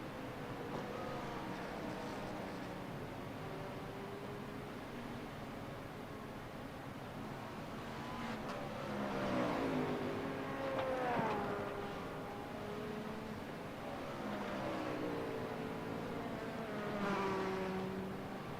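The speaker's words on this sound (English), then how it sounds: "Auto veloz se aproxima velozmente." A race car in a sim racing game, an LMP2 prototype, sweeps past with a faint engine whine that rises and falls in pitch through gear changes. It is joined by a second swell of engine noise later on.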